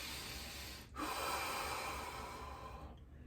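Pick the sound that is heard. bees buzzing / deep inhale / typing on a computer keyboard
deep inhale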